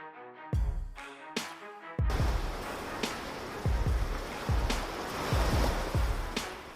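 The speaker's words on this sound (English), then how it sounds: "The Kiantang River tide is one of the most spectacular natural wonders on Earth" Qiantang River tidal bore waves surging and crashing, heavy repeated booming impacts over a continuous roaring wash of water, loud and close.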